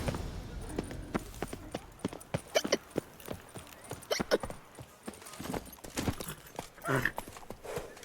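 Roach, Geralt's horse in The Witcher 3, gallops with quick, steady hoofbeats close by, the clip-clop rhythm carrying over light game ambience and a brief snort near the end.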